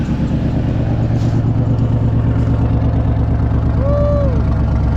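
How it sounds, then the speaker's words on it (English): A 2001 Mazda B3000 pickup engine idles steadily up close after sitting 18 months, a continuous low rumble with even pulsing and no voices. "I've let it sit here and idle and warm up some"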